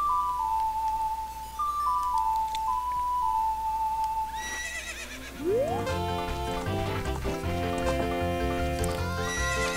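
Epona, the horse in the video game The Legend of Zelda: Ocarina of Time, neighs loudly after a short ocarina melody, followed by rhythmic galloping hoofbeats with game music.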